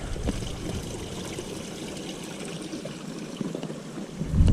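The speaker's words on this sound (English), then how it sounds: "you can definitely hear the water" Steady water trickles and burbles over rocks nearby on the Huskey Gap Trail, a continuous soft gurgling flow with no voices.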